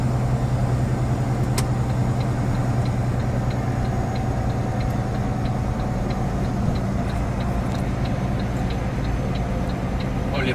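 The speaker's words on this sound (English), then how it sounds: "put your right signal on." A truck's turn signal ticks steadily at a regular pace, faint against the constant low rumble of the idling engine inside the cab, with no talking during the stretch.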